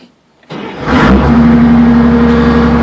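A large diesel engine cranks and catches, then settles into a steady, loud idle with a low rumble and droning hum.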